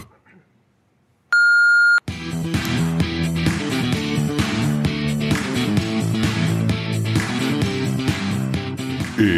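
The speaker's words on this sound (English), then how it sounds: "Please leave a message after the beep." A single sustained electronic voicemail beep sounds alone after near silence, then music starts up right after it.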